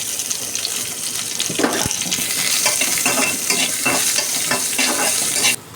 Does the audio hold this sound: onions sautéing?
yes